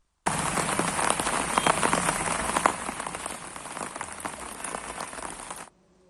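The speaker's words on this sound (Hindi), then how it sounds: "जैसे लगातार कल से बारिश जारी है" Steady rain falls on a surface in a Haryana village, a continuous broadband patter that stays loud and even for about five seconds before it stops abruptly.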